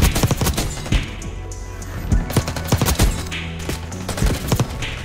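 Rapid gunfire in a first-person shooter match, with bursts of shots and thuds repeating throughout, moderately loud, and a voice briefly heard among the shots.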